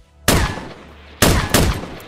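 Sniper rifle shots in a video game: three sharp, loud cracks, the first alone and the last two close together, each with a short ringing decay, and no speech.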